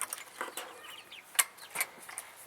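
Chickens cluck and squawk in short irregular bursts, several birds fairly close, with a couple of sharper calls standing out.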